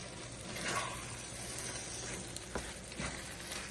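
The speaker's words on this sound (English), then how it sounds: "I'm just gonna stir all of this in." Minced chicken filling with spices and chopped coriander fries in a pan as it is stirred, a steady close sizzle with soft scraping and a few light taps, no talk.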